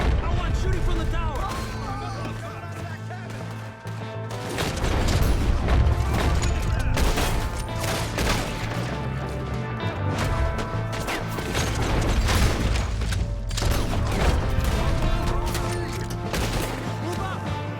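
Video game gunfight in Red Dead Redemption 2, with a dense fusillade of rifle and pistol shots fired from a tower, loud and continuous over booming impacts and a layered musical score, voices shouting intermittently.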